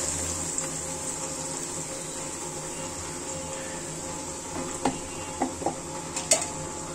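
Blended ginger, garlic and onion paste sizzles in oil left from frying chicken, a steady high hiss with a few sharp pops and clicks toward the end, quiet and close, with no one talking.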